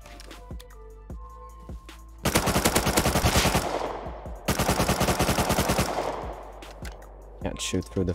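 Automatic gunfire in the survival video game Rust rattles in two long, rapid bursts over a steady background hum, loud and close, with scattered shots before and after.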